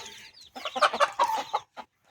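Close, brief clucking from a chicken suffering from fowl pox: a quick run of short throaty clucks followed by one last isolated cluck, in a quiet setting with no talking.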